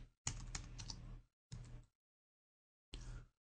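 Quick bursts of typing on a computer keyboard, three separate clusters of close, crisp key clatter separated by silent gaps.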